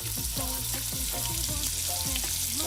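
Beaten duck egg frying in a pan with sliced shallots and ground chili, a steady loud sizzle with the scrape and clatter of stirring running throughout.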